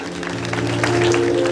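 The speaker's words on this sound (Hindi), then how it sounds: "जोरदार तालियां बजाइए।" Audience applause at a Janmashtami celebration, a dense, continuous patter of many hands clapping at moderate distance for a brief stretch.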